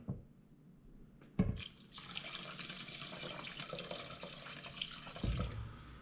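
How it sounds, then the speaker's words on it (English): Chicken stock or water poured onto rice in a pot, a quiet start, then a sudden splash into a steady running pour with a second heavier splash near the end. "I just take and pour in my liquid."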